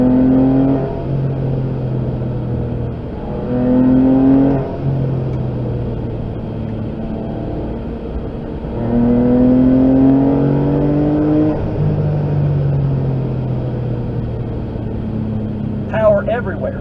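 Porsche 911 of the 996/997 generation accelerating hard in second gear from low revs, engine note climbing in repeated upward sweeps between shifts, loud and close from inside the car, with someone talking over it.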